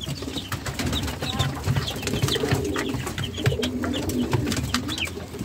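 Poultry in a coop, chickens along with a turkey hen, give soft repeated clucks and low cooing calls against a dense background of rustling and scratching, with no talk.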